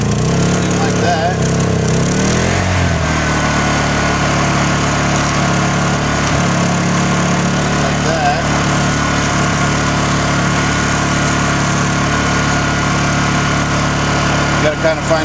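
A Honda EU2000i inverter generator converted to run on propane hums steadily at close range, its engine note shifting slightly early on, while someone talks over it.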